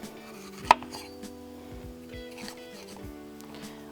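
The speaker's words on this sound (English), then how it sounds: "So we're just gonna cut it into big chunks" A knife chops once through a red bell pepper, cutting it into big chunks on a board: one sharp, close knock against an otherwise quiet kitchen background.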